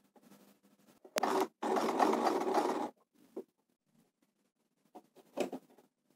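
A sewing machine stitching the end of a buttonhole runs in a loud, fast whirring burst of about two seconds, with a brief start just before and soft mechanical clicks and taps afterward.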